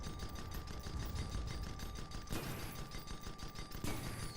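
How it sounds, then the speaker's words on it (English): Twin Gatling guns fire in a video-game airship battle between a galleon and other ships, a dense, continuous rattling barrage that stays steady and loud throughout, with a couple of sharper bursts and no talk. "dual Gatling already hitting the Mine Katzen"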